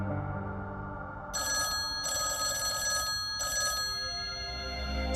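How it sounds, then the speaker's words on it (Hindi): A telephone rings in repeated electronic bursts, three ring pulses with short gaps, over a low background hum. "समीर का फोन"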